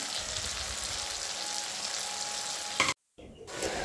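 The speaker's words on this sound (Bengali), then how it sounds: "তারপরে আমার মশলাটা প্রায় ভাজা হয়ে গেছে।" Masala of tomato paste, ginger paste and turmeric sizzles steadily in a hot pan with a constant, dense crackle, close and loud, broken by a brief silent gap before the frying resumes.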